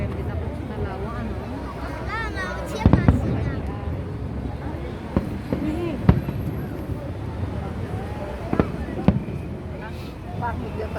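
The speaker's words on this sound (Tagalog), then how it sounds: "Bakit yung fireworks?" Fireworks display at Macau Tower for National Day, heard from a distance as scattered sharp bursts and cracks over crowd murmur and wind, with people talking throughout.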